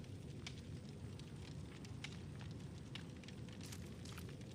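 A campfire crackles quietly in Dead by Daylight, a soft steady rushing bed broken by scattered small pops and snaps, faint and continuous throughout.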